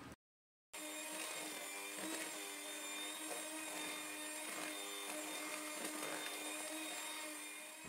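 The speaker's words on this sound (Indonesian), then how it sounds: "Ini biasanya aku mixer sampai ngembang dua kali lipat" Electric mixer whipping ingredients until doubled in volume, a steady high motor whine with a strong buzzing hum, close and continuous after a brief silent gap at the start.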